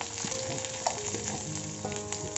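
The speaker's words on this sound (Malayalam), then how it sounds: "ഇനി നമുക്ക് ഈ വറക്കാനുള്ള എല്ലാം കൂടി ഇതിലേക്ക് ഒരുമിച്ചിട്ട് ഒന്നിച്ച് വറുത്തെടുത്താൽ മതി." Coriander, fennel, curry leaves, shallots and dried chilli sizzle together in hot oil, a steady close crackle with scattered pops and the occasional scrape of stirring.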